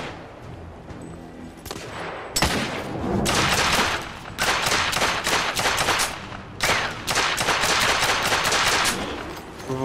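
Gunfire in the video game The Order: 1886, with sustained bursts of rapid automatic fire and scattered single shots, loud and close, broken by brief lulls.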